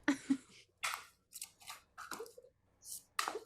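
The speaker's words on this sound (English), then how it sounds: "So I finished shuffling." A deck of tarot cards being shuffled by hand: a series of short, dry, papery bursts in an uneven rhythm, close and quiet, with gaps of silence between them.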